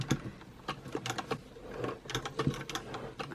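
A vintage Singer sewing machine running stiffly, a quick irregular run of mechanical clacks and ticks, close and fairly soft, with uneven bursts and short pauses and no speech over it.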